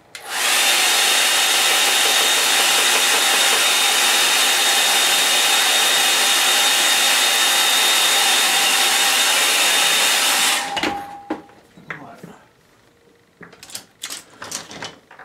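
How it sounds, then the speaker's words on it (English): A hairdryer blows steadily and loudly for about ten seconds with a constant whine, then switches off, leaving a few small clicks and handling sounds. "I'm just going to use the hairdryer."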